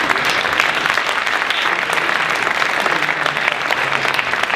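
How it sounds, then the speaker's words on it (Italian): Audience applause at a wine-tasting event in the Marche region of Italy, dense and steady clapping from a full room that holds evenly loud throughout with no pauses. "magnifico, gli facciamo un applauso."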